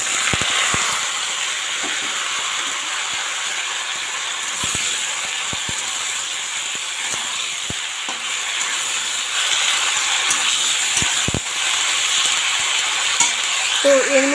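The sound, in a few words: mixed vegetables frying in oil with bay leaf, cumin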